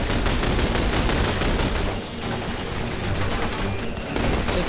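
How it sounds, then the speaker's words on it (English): Dense, continuous automatic gunfire rattles without pause against a gun turret in the video game The Bureau, loud and close throughout with overlapping shots and a brief dip midway. "Let's fire wildly at the gun turret and hope you hit something."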